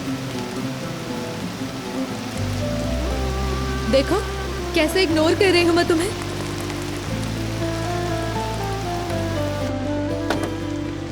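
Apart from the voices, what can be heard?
heavy rain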